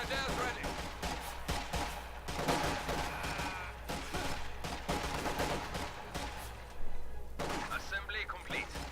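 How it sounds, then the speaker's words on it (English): Rifle volley fire in Company of Heroes 2, a rapid cluster of overlapping gunshots crackling in the middle distance amid busy battle noise, with a sharper burst near the end and a commentator talking over it. "Volley fire."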